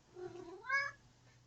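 A single cat meow, short and rising then falling, fairly close but soft, with no talking over it.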